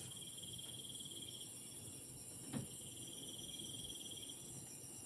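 Crickets chirp in a continuous high shrill trill, faint and steady, with a brief soft knock midway through.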